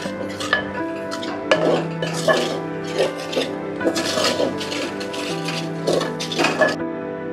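A spoon scrapes and clinks against a pot while salt and chicken masala are mixed in for a chicken curry; irregular metallic knocks and rasps, close and fairly loud over a low background hum.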